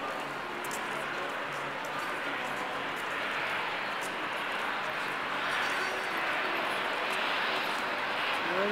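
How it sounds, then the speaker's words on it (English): A seaplane approaching to land in Vancouver, its engine a steady, distant broadband drone that swells slightly toward the end over outdoor wind and ambience. "Seaplane coming in for a landing."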